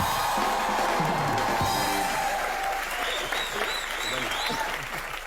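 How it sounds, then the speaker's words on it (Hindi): A studio audience claps loudly for a romantic couple on a show; the dense applause is strongest at first and then thins out and fades over several seconds. "एक बार सबसे रोमांटिक जोड़ी के लिए जोरदार तालियां"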